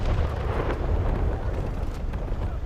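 Naval shells from a Kronshtadt heavy battlecruiser bursting in War Thunder Mobile, a continuous loud rumble of booming impacts and deep explosions with no clear gaps.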